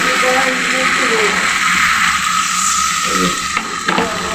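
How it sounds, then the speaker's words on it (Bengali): Water poured into a pan of frying potatoes and tomato for an egg and potato curry, a loud steady sizzle and hiss close up that runs the whole time, with faint stirring scrapes. "এখন ঝোল দিয়ে দিচ্ছি।"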